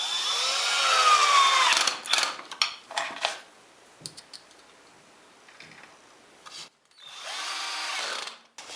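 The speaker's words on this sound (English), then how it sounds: "Now I can go ahead and screw the jig to the miter gauge." A cordless power drill drives screws to fix a wooden jig onto a miter gauge: a close whirring run, then short bursts and clicks, a quiet pause, and one more whir.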